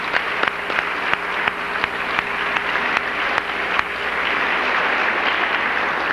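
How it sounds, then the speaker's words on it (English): An audience applauds a band at a hall of fame ceremony, sustained dense clapping filling the room from start to finish, with a few sharper claps standing out near the front. "I think we should give them another round of applause for that."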